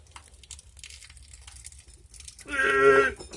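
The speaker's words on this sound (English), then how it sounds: "I love that sound of the right stuff tearing." Right Stuff gasket sealant rips apart as an engine oil pan is pried off, a short, close, crackling tear that follows a stretch of faint rustling in an otherwise quiet workshop.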